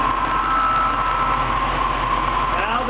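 A steady, loud motor whine from a BMW demo prototype with its regenerative acceleration coil switched on, holding a constant tone with a faint rising sweep as it speeds up and charges the battery.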